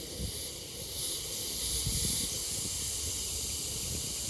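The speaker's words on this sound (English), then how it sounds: "we can open up the valves here and here, let the gas flow" Gas hisses steadily as the valves of a gravity-fed fuel transfer system are opened, a close, continuous airy rush with a faint rumble underneath and no talking.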